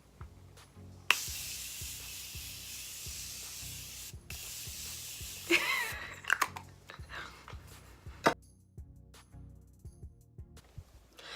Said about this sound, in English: the last thing we have is setting spray, and we're using the Morphe Continuous Setting Mist